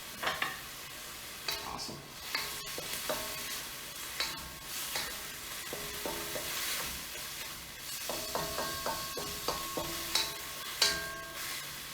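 Pork frying in a pan for mapo tofu with cooking wine, heard as a steady sizzle broken by repeated scraping stirs of a utensil against the pan, close and clear, with a single brief spoken word.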